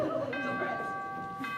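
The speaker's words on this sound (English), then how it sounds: "The cathedral bell summons us." A cathedral bell rings with a clear sustained metallic tone struck twice, the second strike fading at the end, alongside a voice speaking.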